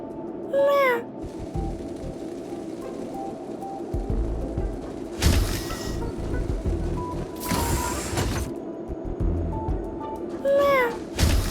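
Cat meowing in the Honkai: Star Rail video game: two short, bending meows, one near the start and one at the end, over a steady bed of game music and ambience.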